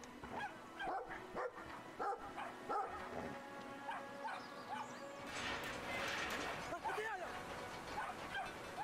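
A dog barks in the video game Brothers: A Tale of Two Sons, giving repeated short barks and yips over the game's music and ambience, with a person talking at times.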